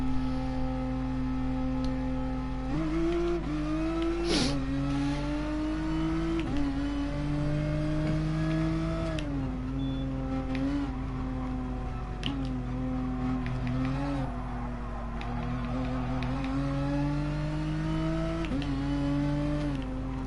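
A race car in Gran Turismo Sport drives a circuit at Suzuka or Sardegna, its engine droning loud and steady with pitch rising and falling through gear changes and corners for the whole stretch.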